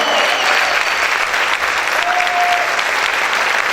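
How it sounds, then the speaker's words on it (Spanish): Congregation applauding in a church service, steady dense clapping that fills the space loud and continuous, with a faint brief tone and murmuring voices underneath. "Si yo fuera usted, aplaudiera más fuerte al Señor."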